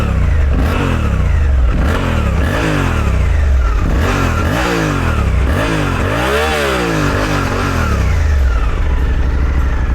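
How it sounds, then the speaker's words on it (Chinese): A Suzuki V-Strom 800DE motorcycle's twin-cylinder engine is revved up and down about six times in a row, loud and close, rising and falling before settling back to idle. "然后我们来听一下它的引擎声音。"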